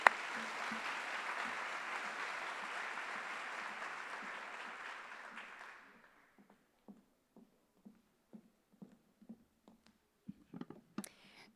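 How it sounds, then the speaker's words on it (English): An audience at a commencement awards ceremony applauding an award recipient, a dense steady round of clapping for about six seconds that stops abruptly, leaving a few scattered faint claps and clicks. "please give her a round of applause"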